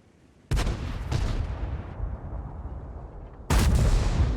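Tank cannon fire in World of Tanks: two heavy, booming shots, one near the start and another near the end, each a sharp blast trailing into a long rumbling decay, with no talking.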